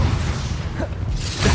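Incendio cast in the Hogwarts Legacy video game erupts as a loud, dense fiery whoosh with a booming rumble, sustained through the short moment and swelling again at the end.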